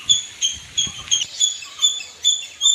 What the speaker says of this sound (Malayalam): കിളികളുടെ ശബ്ദവും